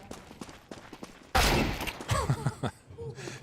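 Rifle gunfire in a professional Counter-Strike match between Team Spirit and Team Liquid erupts as a sudden loud burst of shots partway through, with excited commentator voices talking before and after.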